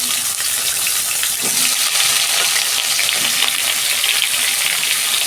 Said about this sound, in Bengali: কাঁচকলাগুলো আমি ভেজে নিচ্ছি।